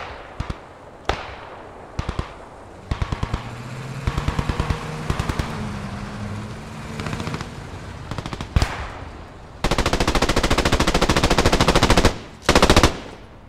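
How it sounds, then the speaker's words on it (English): Machine gun fire in the World War II game Post Scriptum, scattered single shots and short bursts at first, then long sustained automatic bursts that grow loud and close near the end. "Still a machine gunner left up here to cover their retreat."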